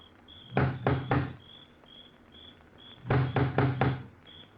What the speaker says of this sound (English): He looks about uneasily, then lifts the huge knocker on the door.